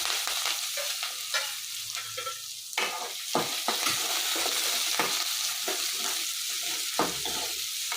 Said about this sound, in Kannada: ಈಗ ಕರಿಬೇವು ಹಾಕ್ತಾ ಇದ್ದೀನಿ, ಈರುಳ್ಳಿನ ಹಾಕ್ಕೊತೀನಿ.